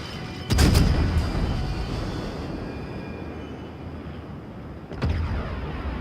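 Heavy naval guns firing in a World of Warships battle: two loud, booming salvos a few seconds apart, each a sharp blast trailing into a long rumbling roar that fills the space between them.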